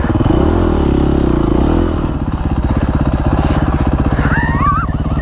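KTM 450 SX-F dirt bike being ridden on grassy trails, its engine loud and close with a steady throbbing pulse that drops in pitch midway, followed by rattles and scraping.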